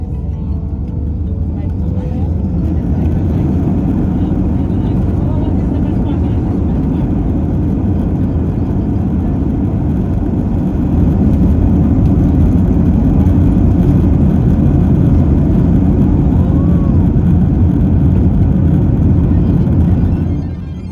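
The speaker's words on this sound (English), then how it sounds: "We taxied out to runway 26 and departed at 10 past 10." Inside a Wizz Air plane taxiing and taking off from Luton runway 26, a steady loud engine roar and cabin rumble that swells as the aircraft accelerates, with faint talk beneath.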